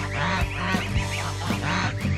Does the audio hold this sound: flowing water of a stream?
no